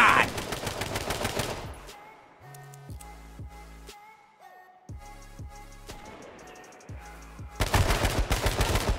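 Rapid bursts of automatic gunfire from the H1Z1 video game rattle loudly at the start and again at the end, with sparser shots and game effects in between and some talk mixed in.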